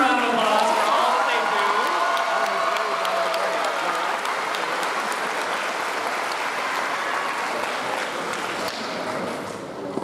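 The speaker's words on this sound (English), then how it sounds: "let's give them a round of applause for all that" A crowd at a middle school graduation in New York applauds the teachers and staff, sustained broad clapping and cheering under a voice speaking over a PA, fading slightly toward the end.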